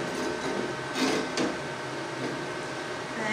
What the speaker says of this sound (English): it gets a little hard to keep this rod in contact if you're not used to stick welding